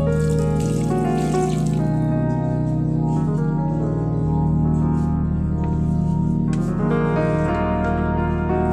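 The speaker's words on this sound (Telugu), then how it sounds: "వీడికి నీళ్ళు పోయాలి, వాటర్ పోస్తేనే బతుకుతాయి" Water is poured onto garden plants on a hot summer day, a steady continuous splashing and trickling stream, loud and close, with no talking.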